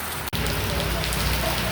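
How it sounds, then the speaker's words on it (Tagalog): Heavy rain pours steadily on Guimaras Island, a dense close hiss of drops drumming on a surface, broken by one brief dropout. "lalong lumalakas ng ulan"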